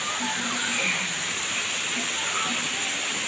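Water rushes steadily down the tiers of Tham Soda waterfall, a continuous broadband hiss that stays even throughout, with faint voices of children playing in the background.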